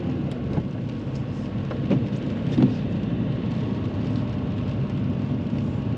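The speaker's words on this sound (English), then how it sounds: "Plus the fact that it's raining" Rain falls on a car during a driving lesson, a dense, steady patter on the body and windscreen. It sits over a low interior rumble, with a few sharper drops or taps standing out, and nobody speaks.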